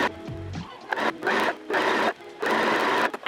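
Sewing machine basting a shirred dress, running in three or four fast whirring bursts separated by brief pauses, close and clear, with a short mechanical clunk at the start.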